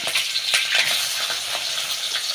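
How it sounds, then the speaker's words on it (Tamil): Green chilies and onion frying in hot oil, a bright, close sizzle with quick crackling spatters and spoon stirs, steady and fairly loud with no voices. "பச்சை மிளகாய் பொரிச்சுங்கப்பா அது கூட வெங்காயம் சேர்த்துக்கிறேன்"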